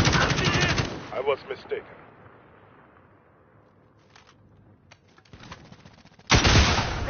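PS4 shooter video game gunfire: a dense burst of rapid automatic fire, a quieter stretch with scattered shots and a voice, then heavy sustained firing again at the end.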